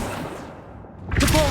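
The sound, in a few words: Accio summoning spell cast in Hogwarts Legacy video game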